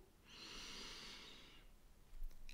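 Slow, calm breathing during a guided relaxation, one long airy breath sustained for over a second, close and soft, followed by a brief snort-like exhale.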